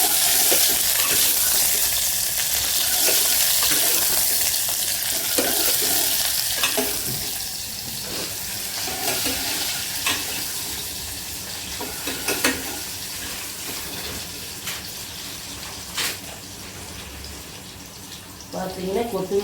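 Dried chili, garlic and curry leaves fry in hot oil for Kongunadu-style ridge gourd kadaisal, giving a loud, steady sizzle and crackle that slowly fades, with intermittent stirring scrapes and a voice talking over it.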